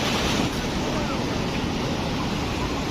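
Sea waves wash steadily onto a beach with a constant broadband roar and some wind noise, while someone talks beneath it.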